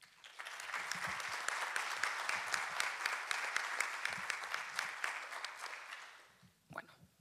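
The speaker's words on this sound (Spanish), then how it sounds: "brindemos un fuerte aplauso al profesor Sergio Gamonal" A lecture audience applauds a professor at a labour law conference in Puerto Montt, steady dense clapping that holds for about six seconds, then fades out with a brief final flurry.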